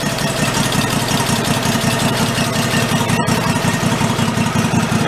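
A busted garden tractor engine runs on fuel drawn through its carburetor, holding a steady, loud, even idle with a rough, knocking throb that continues unbroken from start to finish, with no voices.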